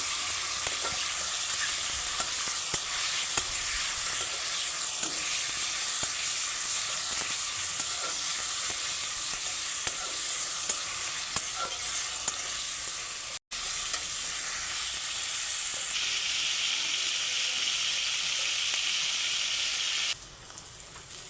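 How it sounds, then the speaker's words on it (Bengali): Marinated meat fries in oil in a wok, giving a steady loud sizzle with occasional stirring scrapes that runs unbroken apart from one brief drop near the end. "ফার্স্টে কড়াইতে তেল দিয়ে এখন ম্যারিনেট করা মাংসটা সর্বপ্রথম ভেজে নেব ভালো করে"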